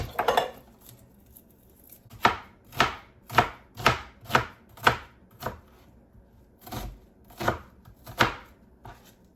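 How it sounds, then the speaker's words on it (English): A small onion is chopped with a knife on a cutting board: about a dozen crisp, evenly paced strikes, close and fairly loud, with brief pauses between runs of cuts. "I've got to cut up a small onion."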